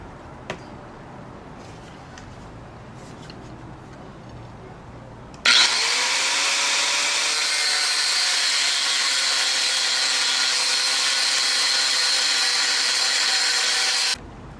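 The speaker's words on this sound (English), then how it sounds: "There's the 3 pieces of metal I just cut." An angle grinder cutting pieces of metal starts abruptly and holds a loud, steady high-pitched whine for about nine seconds before stopping, preceded by quieter workshop ambience.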